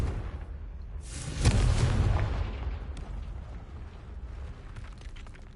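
A Confringo blasting spell exploding in Hogwarts Legacy: a sharp, loud blast with a deep booming rumble that swells and then slowly decays into lingering debris and rumble.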